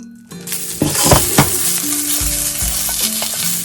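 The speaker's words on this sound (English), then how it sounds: "And now I'm going to saute the peppers and onions." Red and green peppers and onions hit hot olive oil with a sudden sizzle, then keep frying steadily while a utensil stirs and scrapes through them close by.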